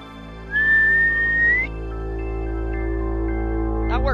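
A single rising whistled note from a video game held for about a second over a low steady hum, followed by quieter faint tones.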